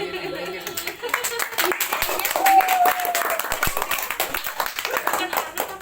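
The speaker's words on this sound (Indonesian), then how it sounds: "kita tepuk tangan dulu" Steady clapping from a group of people, continuing for several seconds while voices talk over it.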